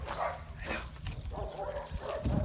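A small dog, a little pet, lets out a few short, sharp barks up close, mixed with snuffling and a person's voice nearby.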